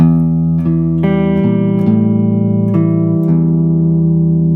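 A loud electric guitar picks out an opening riff: sustained, ringing notes in a slow sequence, each held and overlapping, with no voices.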